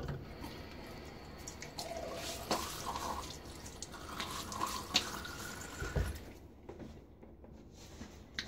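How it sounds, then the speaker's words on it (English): Water from a running sink tap is splashed onto a face before a wet shave with a Gibbs No 17 razor, a continuous close patter of drips and splashes with a few sharper hits, no talking. "So now a little water on my face."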